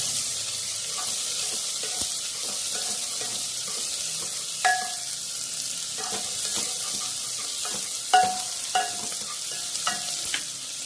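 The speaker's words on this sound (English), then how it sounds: "Add onion, a cup full of onion, that is a big size one onion, and saute." A cup of chopped onion sautéing in a pan with curry leaves, a steady sizzle under repeated stirring, with spoon scrapes and light clinks against the pan at irregular intervals, no talking.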